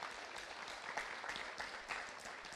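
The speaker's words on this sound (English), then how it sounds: "Let's give yourselves a round of applause, Kentucky State." Audience applause at a university speaking event, a steady wash of clapping from a crowd, fairly faint and continuous with a few sharper bursts, no voices over it.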